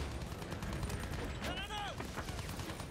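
Gunfire in the World War I shooter Battlefield 1: dense, loud bursts of shots and explosions rumble continuously, with a descending whistling sweep midway, while a voice talks over the combat.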